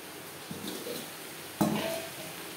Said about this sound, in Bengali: শাক বেশ ভালো করে মিক্স করে দেবো